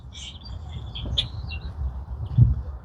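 Birds chirp beside a riverbank walking trail: a few quick, high, bright calls stand out near and far over a soft, steady outdoor background, with no talking.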